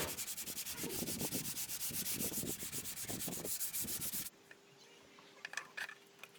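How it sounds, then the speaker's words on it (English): Steady rhythmic sanding of an old wooden bird table, fast back-and-forth strokes close up for about four seconds, then it stops and only faint room noise remains. "just once again giving it a sanding ready for the final"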